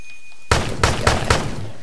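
Gunshots in a Unity 3D zombie shooter game: after a quiet start, a loud shot bursts out, followed by three or four more evenly spaced shots, crisp and close with no talk.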